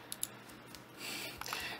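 Typing on a computer keyboard, heard as faint, quick clicks of keys that blur into a soft, steady patter, with no voices.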